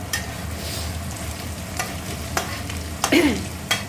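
Garlic, ginger and cumin roasting in a pan, a steady close sizzle with scattered stirring scrapes and a brief utensil clink.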